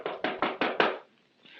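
Five firm, evenly spaced knocks on a door in a radio drama, close and loud, followed by quiet.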